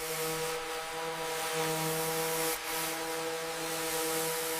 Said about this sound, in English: Fine grit sanding achieves a glass-like finish.